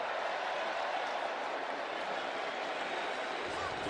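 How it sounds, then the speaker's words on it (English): A stadium crowd at an NFL football game between the Lions and Vikings cheers as a dense, steady roar of many voices, sustained and moderately loud without a break. "The cheer for the announcement that Dan Skipper is eligible."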